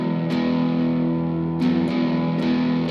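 A heavily distorted electric guitar through a 1980s distortion pedal sustains a thick, gritty chord, with a few sharp pick attacks breaking through the steady wall of fuzz.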